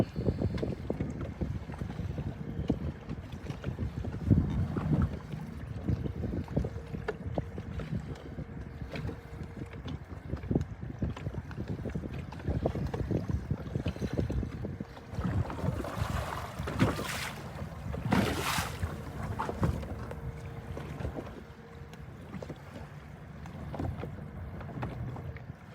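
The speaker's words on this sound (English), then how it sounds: "Try to block out some of that wind on the camera." Gusty wind buffets a camera microphone aboard a fishing boat on Reelfoot Lake during summer crappie fishing, a constant low rumbling roar that surges and swells in strength, with no talking.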